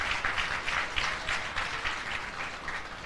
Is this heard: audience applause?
yes